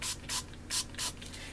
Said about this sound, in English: I'm going to take a bit of water and spray it on the sides.